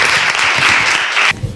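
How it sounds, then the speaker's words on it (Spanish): Loud applause from an audience greeting a speaker at a book talk, a thick wash of clapping that stops sharply, followed by a brief bit of low noise. "Nada, un fuerte aplauso para Clara."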